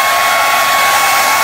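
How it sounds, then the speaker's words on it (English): A hair dryer blows loudly and steadily at close range, a continuous high whirring rush. "use a hairdryer"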